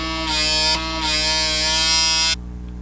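A small electric PMD microdermabrasion device hums and whines steadily with a buzzing motor tone, its pitch shifting briefly before it switches off abruptly.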